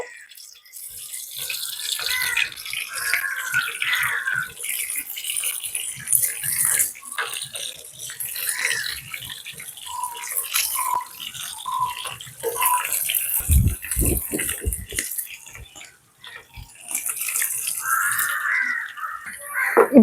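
Small fish fry in boiling oil, making a loud, continuous, water-like frying rush with crackles throughout and a brief rattling thump partway through.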